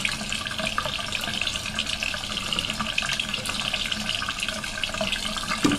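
Water runs steadily from a tap while a brush is washed, splashing continuously with some small clinks and knocks, no talk.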